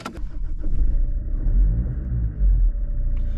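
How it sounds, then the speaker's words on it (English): A Land Rover engine cranks briefly and catches, then settles into a steady, deep idling rumble close by, with no voices. "let's start it up and listen to that engine, shall we?"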